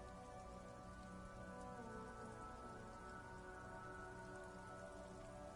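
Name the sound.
rain falling, from the video game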